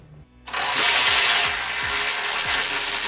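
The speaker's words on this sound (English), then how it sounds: "Using a 13mm socket, undo the remaining bolt on your battery pack skid plate." A socket wrench fitted with a 13mm socket turns a bolt on the battery pack skid plate of a Jeep Wrangler JLU 4xe, making a loud, close whirring ratchet sound with repeated clicks after a brief quiet start.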